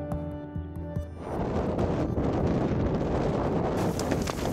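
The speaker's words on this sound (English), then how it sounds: "And then we have wind which is hitting us in our face" Strong wind on the Greenland ice cap buffets the microphone, a steady broadband roar that builds after the first second and stays loud and continuous, with faint tonal sounds early on.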